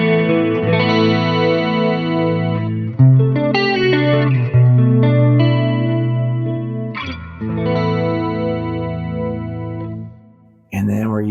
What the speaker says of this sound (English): And then we're going into a hall reverb